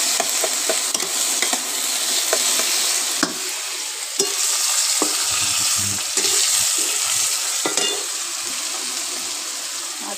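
Lentil dumplings (bori) sizzle steadily in hot oil in a home kitchen, a continuous crackling fry broken by occasional sharp clicks of a spatula stirring the pan.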